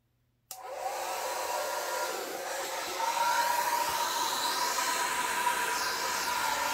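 A hair dryer on its cool setting blows over freshly poured acrylic paint mixed with pouring medium, a steady loud whooshing rush that switches on after a brief silence and runs continuously, growing slightly stronger partway through.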